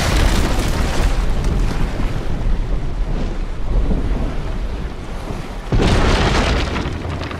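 Heavy booming cannon fire from brigs in a naval video game battle, a dense, continuous low rumble of blasts with a fresh loud burst near the end, no talking.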